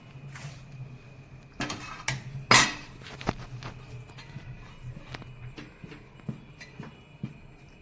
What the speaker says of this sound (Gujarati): બરોબર હલાવી દેવાનું, એકદમ મિક્સ કરી દેવાનું બરોબર